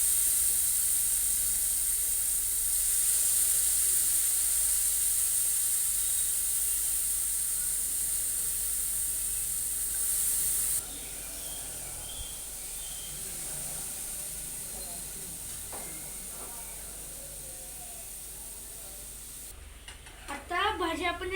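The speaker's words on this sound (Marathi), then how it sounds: "आता तेल गरम झालेलं आहे। आता आपण त्याच्यामध्ये भाज्या टाकूया।" Chopped vegetables sizzling in hot oil in a pan while being cooked for a pizza topping: a steady, close, loud hiss that fades a little as it goes, with faint stirring noises near the end.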